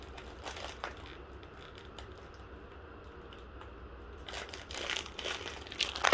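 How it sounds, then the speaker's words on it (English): Plastic Lego Super Mario mystery bag torn open with teeth in a hotel room, with quiet crinkling early, a lull, then louder crackling and tearing of the wrapper building toward the end. "I got it open using the teeth method."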